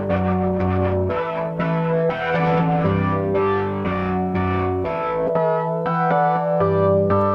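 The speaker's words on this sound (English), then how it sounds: "It's quite nice, the rotary speaker." Sustained Oberheim TEO-5 synthesizer chords with a rotary speaker effect's swirling, wavering shimmer, playing loud and continuous in a rhythmic chord pattern with no voices.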